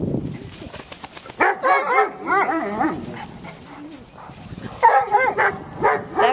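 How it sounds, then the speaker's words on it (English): Several puppies barking and whimpering up close in two lively bursts of high yips, separated by quieter whining. "Like a tangle of puppies here."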